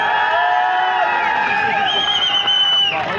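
A large outdoor crowd cheers, whoops and shouts loudly for a local MLA at a political gathering, with sustained high-pitched voices and whistles over dense clapping for about three seconds.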